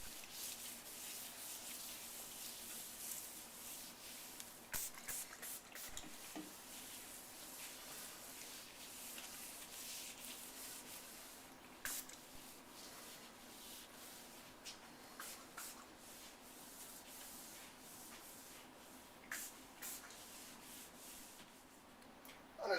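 A gloved hand rubs sealer into a granite countertop, producing a steady, faint, close-up swishing friction broken by occasional light ticks and scuffs.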